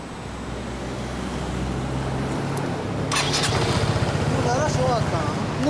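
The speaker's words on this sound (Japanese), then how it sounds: "エンジンスタートお願いします。" A 2015-model Yamaha Tricity 125 three-wheeled scooter starts up and settles into a steady idle, with a low engine rumble under nearby voices and outdoor traffic noise.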